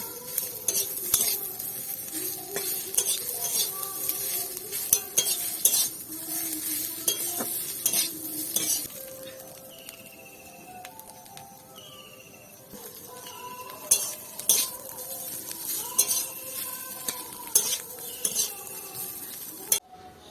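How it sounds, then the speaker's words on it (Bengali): A spoon stirs mustard paste through a simmering potato and pointed gourd curry in a pan, with steady scraping and soft sizzling broken by occasional metallic clinks against the pot, close and moderately loud. "ভালো করে সবগুলোকে একবারে মিশিয়ে নেড়ে নেব"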